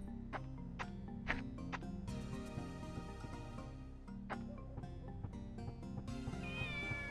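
A cat in the video game Shenmue meows repeatedly, short plaintive calls rising over soft game music and ticking, fairly quiet and evenly spaced.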